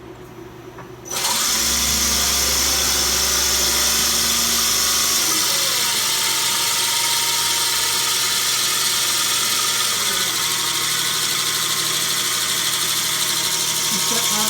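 A CNC machine spindle runs a cutting cycle, starting about a second in and holding a loud, steady mechanical whir to the end, with people talking over it.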